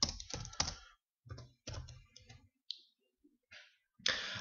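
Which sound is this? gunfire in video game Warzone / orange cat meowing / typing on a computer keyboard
typing on a computer keyboard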